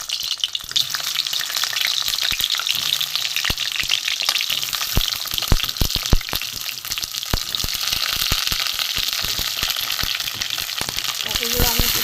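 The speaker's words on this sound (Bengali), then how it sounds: "আমি পটলগুলো ভেজে নেব।" Cut pointed gourd frying in mustard oil in a hot kadai for a milk-based potol curry, a loud, steady sizzle close up, punctuated by sharp stirring scrapes and taps of a spatula.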